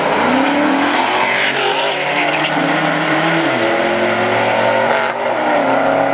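A Ford Mustang and an Oldsmobile Alero race side by side. Loud, close engines rev hard with rising and falling pitches as they accelerate through gear changes, and a sharp transient comes near the end.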